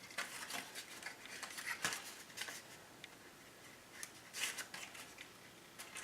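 Cardstock tabs on a hexagon box being folded back by hand, heard as faint, scattered crisp paper creases and rustles in quiet surroundings.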